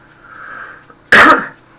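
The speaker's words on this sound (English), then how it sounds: "excuse my cough" A single sharp, loud cough bursting out after a quiet moment, brief and close to the microphone.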